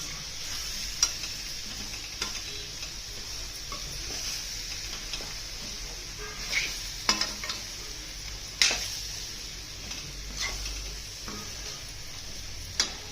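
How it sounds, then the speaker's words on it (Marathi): Green drumstick pods being stir-fried in a pan, with a steady soft sizzle and scattered scraping clicks of a spoon stirring, moderately close and without voices. "शेंगा छान परतून घ्यायच्या"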